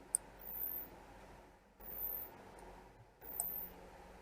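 Three faint, sharp computer mouse clicks come at roughly even intervals while someone works in a spreadsheet, set against a quiet room hum.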